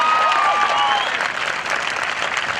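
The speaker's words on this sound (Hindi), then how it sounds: "उनके लिए जरा तालियां बजाओ जोर से।" Loud, dense applause from an audience at a self-defence session fills the space, a steady wash of clapping that stays strong throughout.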